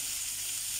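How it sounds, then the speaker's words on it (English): Kebabs fry in a pan with a steady, close hiss of sizzling oil, even and continuous throughout and heard alone without voices. "So we're going to let this fry up for a bit and slowly we're going to turn them on each side."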